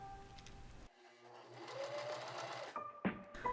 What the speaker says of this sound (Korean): 치마 윗부분을 재봉틀로 박아주면 주름선이 고정이 됩니다.